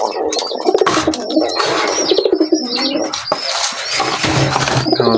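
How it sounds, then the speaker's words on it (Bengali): Pigeons kept at home coo repeatedly up close, with loud overlapping throaty calls and soft wing or shuffling noises throughout. "তারপর এখানে আছে কবুতর"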